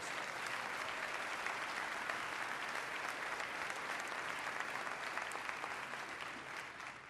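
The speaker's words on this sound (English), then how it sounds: "Let's give them a round of applause and thank them for their service" A large crowd at a State of the State address gives sustained, dense applause that holds steady and loud throughout before easing slightly at the end, with no talk over it.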